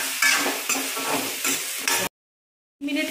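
A spatula stirs potato and tomato dry sabzi with garam masala and salt in a pan, making close, repeated scraping and sizzling strokes for two seconds, a brief silent gap, then stirring resumes.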